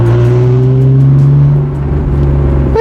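A 1991 right-hand-drive JDM Honda NSX engine hums close and loud from inside the car with the windows down, a steady droning tone that sinks slightly, then rises sharply as it revs at the end.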